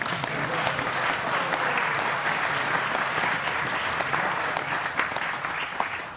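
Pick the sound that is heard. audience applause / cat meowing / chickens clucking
audience applause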